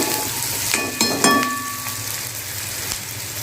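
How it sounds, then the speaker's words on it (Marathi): Onions fry in a pan for a Maharashtrian kantola vegetable dish, a steady close sizzle with a few clinks and stirring scrapes near the start. "ब्राऊन कलर येईपर्यंत आपल्याला असं फ्राय करायचा आहे."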